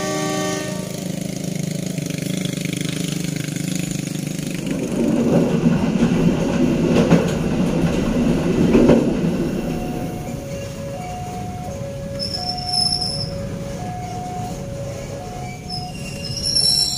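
A Cibatuan local train rolls along at night, a steady rumble of wheels on rail swelling midway with squealing wheels, then tonal chimes or beeps repeating toward the end.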